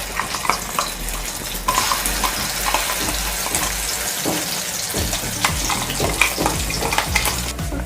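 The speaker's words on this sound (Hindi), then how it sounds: "हमने इसका पेस्ट जो बनाया था सब तेल में थोड़ा फ्राई करेंगे अच्छे से" Spice paste fries in hot oil in a pan for pointed gourd kalonji, sizzling steadily with repeated scraping and stirring strokes of a spoon, close and alone without talk.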